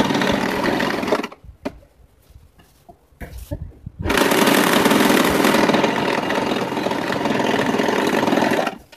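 A sewing machine stitches a homemade bag close by in two long, loud bursts of steady whirring and rattling, separated by a quieter pause with a few soft handling noises.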